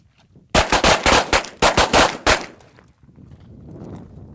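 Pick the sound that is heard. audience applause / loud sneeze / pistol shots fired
pistol shots fired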